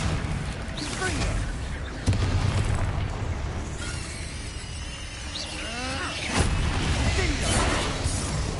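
Confringo explosive spell blasts go off in Hogwarts Legacy combat, with loud booming bursts and crackling over dense battle noise, strong hits near 2 and 6.5 seconds, and shouting voices mixed in.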